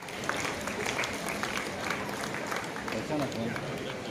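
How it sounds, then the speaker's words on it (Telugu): Audience applauding quiz competition winners at a bank-organized school quiz event, steady dense clapping throughout under a speaker's voice on the microphone. "చప్పట్లు గట్టిగా ఇవ్వాలి."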